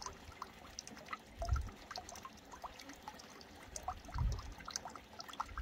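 Water being emptied out of a container outdoors in the countryside, a faint trickling and pouring with two brief louder low splashes, the rest soft dribbles under a quiet outdoor background.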